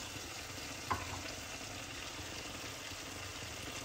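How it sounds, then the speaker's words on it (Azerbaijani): Dried mint frying in oil in a pan gives a steady, close sizzle throughout, with one small sharp pop near the start and no voices. "Biraz yağda qovururam. Üzərinə bir xörək qaşığı quru nanə"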